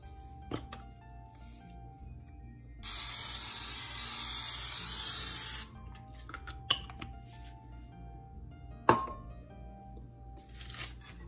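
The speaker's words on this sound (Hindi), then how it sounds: "ये स्प्रे मैंने कर दिया ट्रे के अंदर।" Cooking spray is sprayed into a baking tray while making coconut macaroons: one steady, close hiss lasting about three seconds, with faint kitchen clicks and taps before and after.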